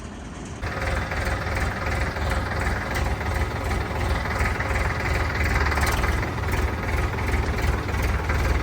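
Three-cylinder Indofarm 3055 tractor engine idling close by, a steady low rumble with an even knocking throb that runs continuously with no talk.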